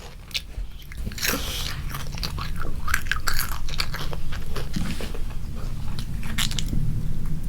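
A child crunches and chews Korean honey butter potato chips up close, with steady crisp bites and crackly mastication running continuously throughout.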